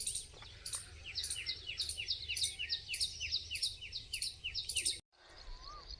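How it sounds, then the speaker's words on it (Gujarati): Birds call in a farm field planted with groundnut and pigeon pea. Bright chirps repeat in a quick, regular rhythm over a low background hum, and the sound cuts off sharply near the end. "પક્ષી બોલે છે ને"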